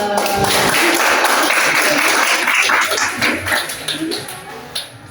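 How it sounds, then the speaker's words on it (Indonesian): A group at a school coaching presentation bursts into applause, dense clapping that thins out and fades over a few seconds, with voices mixed in. "Tepuk tangan."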